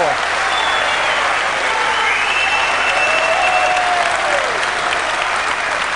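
Wembley snooker crowd at the 2004 Masters applauding a match-clinching shot, dense sustained clapping filling the hall at full volume, with faint voices beneath.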